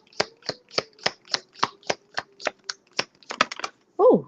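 Tarot cards are shuffled by hand in a steady series of about a dozen crisp riffling flicks, close and clear, ending in a faster cluster and a brief voice.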